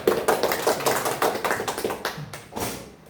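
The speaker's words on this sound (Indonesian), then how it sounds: "kita kasih aplaus dulu lah biar nggak ada suasana yang tidak" A small group in a group counselling session claps, giving quick, fairly regular hand claps that turn more scattered and thinner as the applause tapers off.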